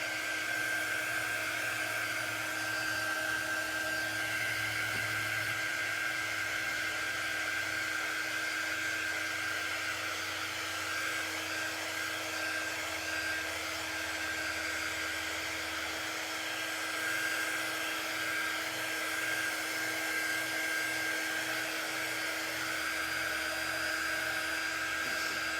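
Hair dryer blowing steadily over chalk paste on a Chalk Couture pumpkin spice project, a continuous whirring drone held unbroken and fairly close, with no talking.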